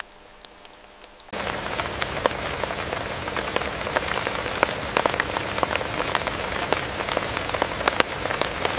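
Rain falls on leaves and other surfaces, beginning abruptly after a quiet opening second and then keeping up a constant patter with sharp individual drops tapping close by.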